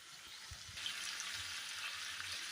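Mutton frying and being stirred in a pan on high heat, a steady loud sizzle throughout with soft scraping stirs underneath, no voices.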